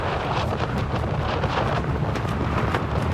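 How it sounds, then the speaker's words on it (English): Ferocious storm wind batters tents in a steady, loud, unbroken roar with flapping gusts, close to the microphone and with no voices. "Now we just need to hunker down and ride out this ferocious storm."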